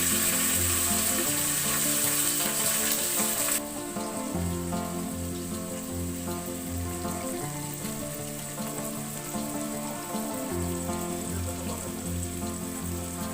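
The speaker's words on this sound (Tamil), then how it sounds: "வெங்காயம் நல்லா வதங்குறதுக்காக வந்து கூட கொஞ்சமாக சால்ட்டு வந்து சேர்த்துக்கலாம்." Onions fry with salt in a pan and give off a loud, constant sizzle and crackle that runs close and unbroken for the whole stretch, with no talking.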